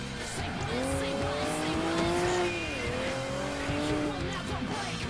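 Race car tires squeal in Project Gotham Racing 3, with a sustained wavering screech over a loud engine roar through the corners, and a voice speaks faintly beneath the game sound.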